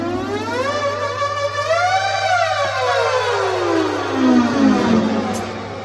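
A Haken Continuum Mini MPE synthesizer, driven from a guitar, gives a loud, close, sustained tone that slides in pitch like a siren, rising and then sweeping steadily downward over several seconds, with no talk.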